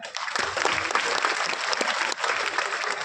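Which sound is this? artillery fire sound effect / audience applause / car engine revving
audience applause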